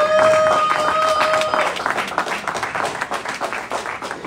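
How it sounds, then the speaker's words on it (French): Audience applause and cheering at a celebration honoring Dikembe Mutombo in Champaign, Illinois, a dense, loud wash of clapping that stays steady, then thins and fades slightly toward the end. "Ajoutez un peu de acclamation alors qu'elle avance pour nous dire quelque chose."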